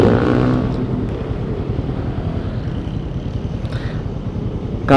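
A Soib Racer 400 twin-cylinder motorcycle engine runs with a steady, low, throbbing drone close by. The sound holds even throughout, and a brief sharper burst comes at the very end.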